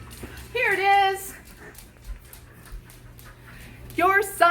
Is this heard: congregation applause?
no